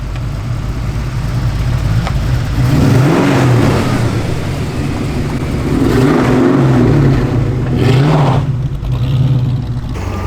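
Maserati engine revving at a cars and coffee meet, loud mid-pitched blips rising twice over a steady rumble, close by with no talking.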